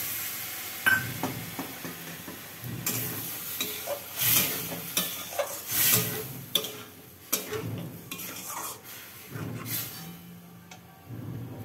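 Jackfruit and prawn curry being sautéed and stirred in a pan, with steady sizzling and frying under repeated scraping stirs and occasional clinks of the spoon against the pan, close and moderately loud, with no talk.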